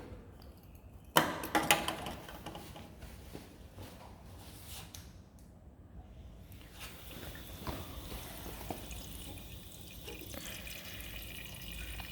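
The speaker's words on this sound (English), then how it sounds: "before you use this machine, you need to add water in the water tank" Water pours into the water tank of a KRD 2 kW laser cleaning machine, starting with a louder splash and gurgle, then running as a quieter, steady trickle and pour.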